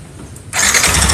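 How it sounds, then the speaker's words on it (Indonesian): Yamaha NMAX 155 scooter with its covers removed fires up abruptly after a brief quiet moment, then settles into a loud, close, rattly idle. "Ini dicopot semua, lalu motor dihidupin."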